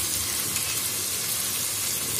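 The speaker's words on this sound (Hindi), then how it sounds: "मसाला अच्छी तरह से भून गया है, और अब मैं इसमें ऐड करूँगी" Masala frying and sizzling steadily in a pan for tikka biryani as yogurt goes in, a continuous close hiss with faint bubbling and no talk.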